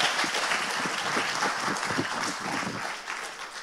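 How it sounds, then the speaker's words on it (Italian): Audience applause at an award ceremony held by a statistics society, a sustained burst of many hands clapping, close and full, tapering slightly toward the end. "un applauso penso che sia quantomeno opportuno"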